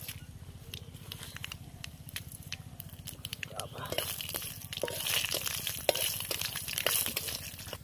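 Bay leaf and mustard seeds are tempered in hot oil, a dense crackling sizzle that swells louder partway through and keeps popping, with a voice talking underneath.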